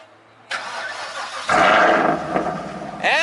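A car engine cranks and fires up at a private car meet in North Carolina, starting with a sharp squeal and then a loud, rising roar, with a second burst of revving near the end, close and very loud.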